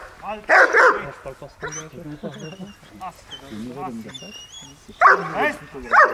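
A dog at a training course aimed at turning aggression into prey drive gives loud, close barks in bursts, with yips and whimpers in between, as a person speaks commands over them.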